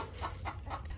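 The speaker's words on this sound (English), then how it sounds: "there's a hen laying an egg behind me now too" A farmyard hen clucking as she lays an egg, three loud, rhythmic squawking clucks close by with no one talking.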